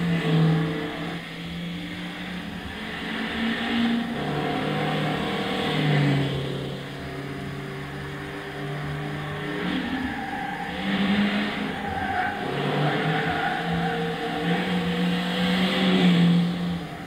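A Toyota Will VS 1.8 16V in Gran Turismo 6 with its engine droning and rising and falling as it understeers through corners, faint tire squeal under the steady simulated engine note.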